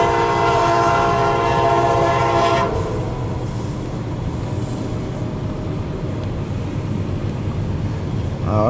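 A CSX empty coal train led by an SD70MAC locomotive rumbles past loudly and close, with a sustained horn blast over the start before the steady roar and clatter of passing cars continues alone.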